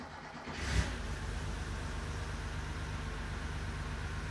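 A hotrod Porsche 912 engine catches after the key is turned, with a brief burst of cranking settling straight into a steady, rough idle that runs on throughout.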